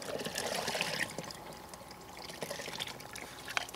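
Water from a Sawyer 4-litre gravity filter runs out of the opened tap fitting in a close, uneven trickle and splash that lasts a few seconds.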